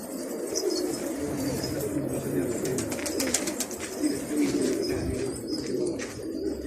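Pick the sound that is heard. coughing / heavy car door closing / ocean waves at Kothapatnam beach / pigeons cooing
pigeons cooing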